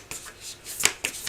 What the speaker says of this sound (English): This deck. It's kind of awkward to shuffle still,